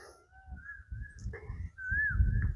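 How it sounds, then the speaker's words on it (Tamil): Peacock calls ring out in sustained, slightly wavering whistled tones over a low rumbling background, several calls in a row at moderate distance, at Narthamalai in Pudukkottai. "கேட்குதா உங்களுக்கு மயில் சத்தம்"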